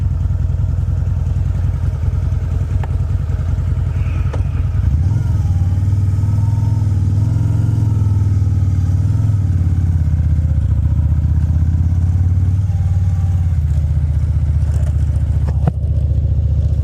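A Harley-Davidson V-Rod motorcycle idles loudly up close, then the engine pulls away with a deep, steady throbbing drone that holds for several seconds before easing slightly.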